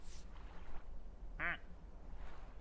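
A single harsh, nasal duck quack rings out once, fairly close, against a low, steady background rumble, with no voices over it.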